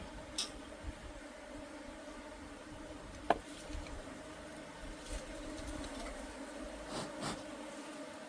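Honeybees buzz around an apiary hive during a September inspection, a faint, continuous insect drone over a low background hum, broken by one sharp click near the middle. No voices.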